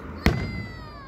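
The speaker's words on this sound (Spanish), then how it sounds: "Aquí vine a tomar unos videos, aquí los cohetes" A single sharp Independence Day firework bang cracks out close by, then fades into a ringing, whistling tail over about a second.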